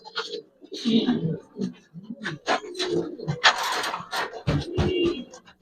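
Pigeons coo at a farm where birds are kept for sale, their low, throaty calls repeating beneath and between frequent close conversation.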